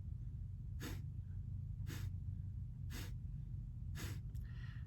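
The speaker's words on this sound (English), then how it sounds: "So the exhale for Kapalabhati is forceful." Forceful Kapalabhati yoga breathing: four sharp, evenly spaced nasal exhales about a second apart, close and clear over a low steady hum, with a faint rustle at the end.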